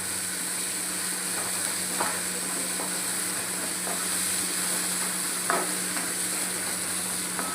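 Chole masala being stirred in a frying pan, a steady soft sizzle with a few faint spoon scrapes against the pan, fairly quiet and continuous with no talking.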